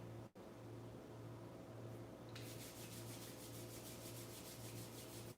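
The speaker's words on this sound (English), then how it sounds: "Rub your hands briskly." Hands rubbing together briskly at the start of a live vinyasa yoga class, a faint, continuous dry friction sound that holds steady over a low room hum.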